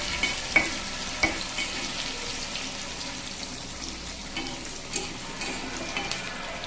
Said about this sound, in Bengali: আদাটা দেওয়ার পরে কিছুটা জিরে দিয়ে দিচ্ছি